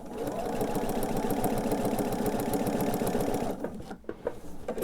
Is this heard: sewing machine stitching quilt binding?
yes